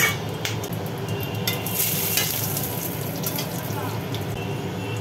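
Whole cumin, bay leaf and cloves sizzle in hot mustard oil in a pan, a steady close crackling hiss with small pops and occasional scrapes of stirring.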